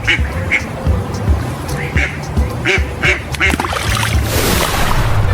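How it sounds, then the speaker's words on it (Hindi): Ducks quack repeatedly in short nasal bursts, fairly loud and close, with some water splashing and background noise toward the end. "डक को हिंदी में बतख कहते हैं।"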